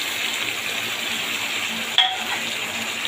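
Boal fish with spices fries with potatoes and onion greens in a wok, keeping up a steady, close sizzle, broken once by a short metallic clink as the food is stirred. No one talks.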